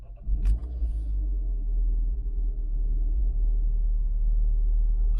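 A car with 30,000 miles on it cranks briefly, fires up, then settles into a deep, slightly uneven, lumpy idle rumble that continues steadily close by.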